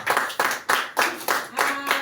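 Worshippers at a night prayer camp clap together in a firm, even rhythm, about seven sharp group claps in quick succession, with a faint voice or tone threading beneath the beat.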